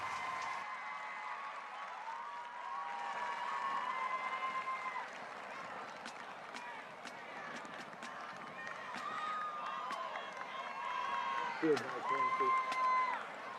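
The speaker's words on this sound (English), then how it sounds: "let's give one last round of applause for the Eisenhower High School Band and Tigers" Stadium crowd applauds a high school marching band at a Kansas football game, sustained clapping and cheers spread across the stands, with an announcer talking over it.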